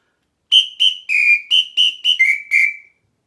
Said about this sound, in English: I'm going to use my samba whistle.